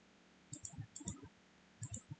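Computer mouse clicks in a quiet room, two small clusters of faint, crisp clicks separated by a short pause.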